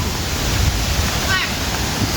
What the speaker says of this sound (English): Oh yeah, that's the waterfall.